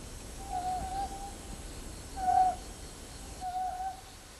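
Three soft hoots from an owl come at spaced intervals, each a short tonal call, the middle one slightly louder, over a quiet, faintly hissing night background.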